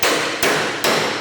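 A hammer strikes a carriage bolt three times at an even pace, tapping it into the lower rubber cut edge of a MUSKOX 26-84 snowblower, each hit a sharp, loud, close metallic knock.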